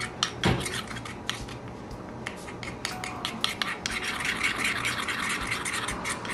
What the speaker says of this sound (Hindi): अब हम इसको अच्छे से मिक्स कर लेंगे।